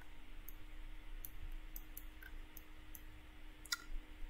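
Keyboard keys pressed for shortcuts while working in Blender, a sparse run of quiet, close clicks spread irregularly across the clip, with a small cluster near the end over a low steady hum.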